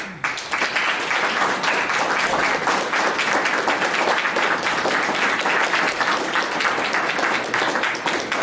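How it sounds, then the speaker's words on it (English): A room full of people applauds staff members coming forward at a JCRI farewell event in Anniston, Alabama, with sustained, thick clapping that stays loud and even for about eight seconds, no talking over it. "give them a round of applause as they come forward as well"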